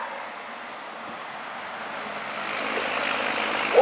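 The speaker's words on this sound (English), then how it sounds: "Here comes my buddy with his 12 valve straight pipe." Straight-piped 12-valve diesel 1997 Dodge Ram 2500 pickup approaching, its steady broadband roar swelling gradually louder over a few seconds, with no voices.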